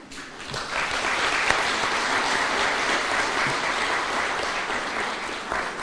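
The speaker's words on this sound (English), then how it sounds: "We applaud you as the patrons of each CDF fund in your constituencies." A crowd at a Kenyan government Constituency Development Fund anniversary event applauds continuously, a dense, steady wash of clapping that holds at an even level throughout, with no voices.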